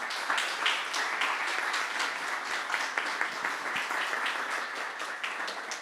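Audience applause at an international conference honoring panelists, a steady wash of many hands clapping throughout at moderate loudness with no talk over it.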